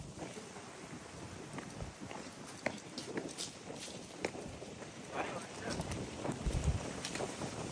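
Strong wind gusting on a hiking trail buffets the microphone in rough, uneven bursts of low rumbling noise, with footsteps and scuffing mixed in and a person speaking throughout.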